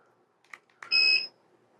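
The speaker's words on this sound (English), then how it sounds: "Get a little beep, and then the speed increases." A Lumary smart ceiling fan with RGB lights gives a single short electronic beep as its speed steps up, a bright tone lasting about a third of a second after faint clicks, close and clear in a quiet room.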